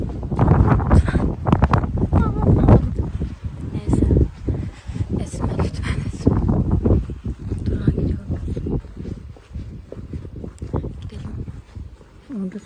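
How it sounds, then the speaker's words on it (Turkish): Strong wind roars and buffets the microphone continuously in heavy low gusts outdoors in Kadıköy, Istanbul, loud and constant throughout. "Çok rüzgar esiyor yani."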